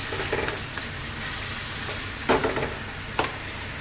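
Cream poured into a hot pan of cooked shrimp for a creamy garlic pasta, giving a steady close sizzle with a couple of sharper bursts of bubbling and clatter partway through.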